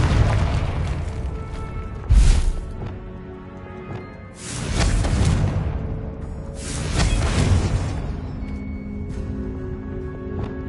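In Hogwarts Legacy, the Confringo spell sets off a run of deep explosive booms. A sharp burst comes first, followed by two longer rumbling blasts, all loud and close, with no talk over them.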